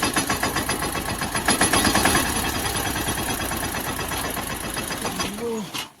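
A tractor engine runs steadily in a farm field, its mid-pitched, knocking rumble loud and continuous before cutting off near the end.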